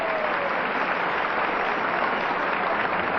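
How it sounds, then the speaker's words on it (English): An audience at a 1986 ballroom dancing championship applauds, a dense, sustained wash of clapping that stays loud and even throughout with no voices on top. "Lots and lots of applause, please."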